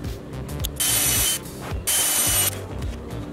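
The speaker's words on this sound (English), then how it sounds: "I have drawn onto the bottom of the board where I'm going to countersink the screws at" A drill cuts countersinks for screws into a wooden board for a cross-cut sled, in two loud, harsh bursts of about half a second each, with quieter handling between them.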